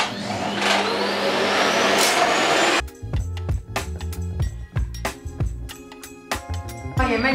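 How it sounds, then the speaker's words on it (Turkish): A vacuum cleaner roars steadily for a few seconds, then cuts off abruptly, leaving choppy, rhythmic sounds with sharp breaks. "O yüzden şimdi hemencik buraya bir süpürge tutacağım."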